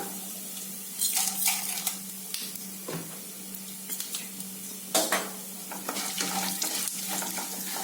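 Mustard seeds and cumin crackle and splutter in hot oil in a pan, a steady close sizzle with scattered sharper pops and a few louder bursts, no voices.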